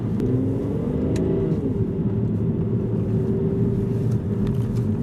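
An Aston Martin Virage drives along with a steady, loud engine rumble and a rising-then-settling engine tone, with constant road noise throughout and no talk.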